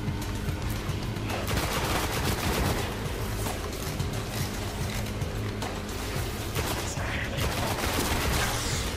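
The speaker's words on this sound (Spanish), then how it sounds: "Creo que me están disparando, ¿no?" Dense, continuous gunfire aimed at the player in the video game Destiny, with rapid overlapping bursts and impacts over a constant loud battle din, filling the scene without letup.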